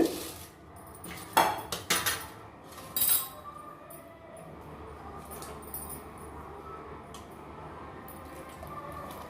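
A spoon stirs thick kambu kali in a pot, with several clanking scrapes against the metal in the first few seconds, then a quieter, steady background, close.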